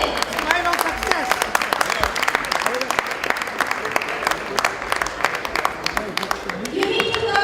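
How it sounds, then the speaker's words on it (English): An audience claps in a sustained, dense round of applause that runs the whole stretch, with voices calling and talking over it. "Round of applause for him."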